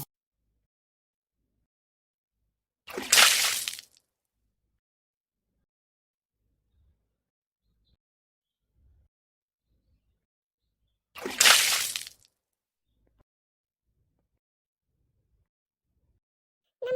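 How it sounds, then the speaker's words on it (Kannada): Water is thrown onto a village courtyard in two separate splashes, each a short, bright whoosh about a second long. Near silence fills the long gaps between them. "ತಡಿ ಒಂದಿವ್ಸ ನೀರು ಹೊಡೆದ್ಬಿಡು ನಂಗಳಕ್ಕೆ."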